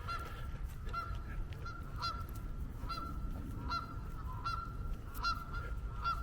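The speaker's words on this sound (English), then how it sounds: "Oh, it's a goose." A goose honks repeatedly by a river in Philadelphia, its calls coming at a regular pace over a low, rumbling outdoor background.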